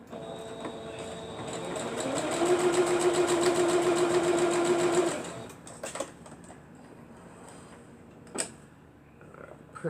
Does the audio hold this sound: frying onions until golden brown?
no